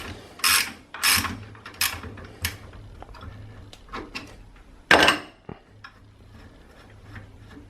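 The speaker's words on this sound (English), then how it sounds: "Then using a 15mm open-end wrench and your 17mm hex, you can undo the lower bolt." A 15mm open-end wrench and 17mm hex turn the lower bolt on a Dal Soggio Sphere closed-cartridge motorcycle fork, producing a few sharp ratcheting clicks and metallic knocks up close, with quieter ticks between.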